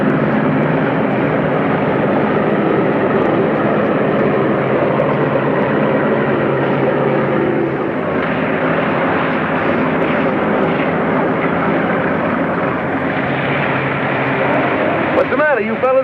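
Propeller airplane taxiing on a runway, a loud continuous engine drone that holds steady throughout with a slight shift midway, with voices heard over it near the end.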